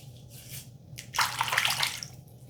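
Water splashes as hands cup it onto the face before a shave, soft trickling giving way to a louder sloshing burst near a running tap, brief and close.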